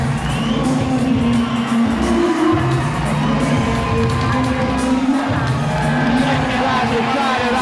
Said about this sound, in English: The crowd are absolutely ecstatic.